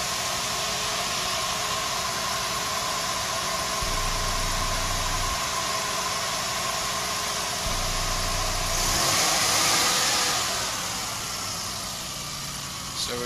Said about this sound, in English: Rev the motor a little bit to stabilize the points.